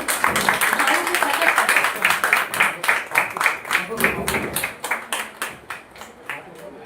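Audience applause in a hall at a ceremony honouring a visiting professor. It starts as a dense, sustained ovation, then thins into distinct individual claps that fade toward the end.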